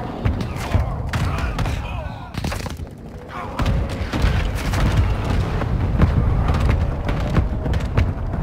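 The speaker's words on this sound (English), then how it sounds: "Hostile mortar strike near your position." A hostile mortar strike in Call of Duty Modern Warfare 2 brings a run of heavy booms and thuds mixed with scattered gunfire, a continuous battle din with some voice in the background.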